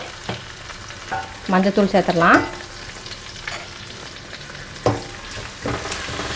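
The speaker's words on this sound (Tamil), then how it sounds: "சேர்த்து வணங்கினா நம்ம சேர்த்து எடுத்து வச்சுருக்க தக்காளி எடுத்து சேர்த்துடலாம்." Steady sizzling of tomatoes frying in a pan for fish curry, with a brief burst of stirring and clatter midway and a short voice.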